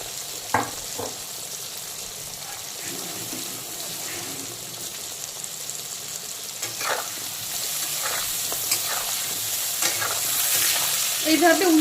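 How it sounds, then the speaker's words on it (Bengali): Turmeric-coated potatoes fry in oil left from frying mourala fish, a constant crackling sizzle with repeated scraping stirs and turning, growing slightly louder toward the end. "এখন ওই মাছ ভাজার তেলেই দিয়ে দেব হলুদ মাখানো আলু। আলুগুলোকে একটু ভালো করে ভেজে নেব।"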